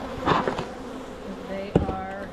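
Honey bees buzz softly throughout a beehive inspection, a faint steady drone under brief human voices and handling sounds.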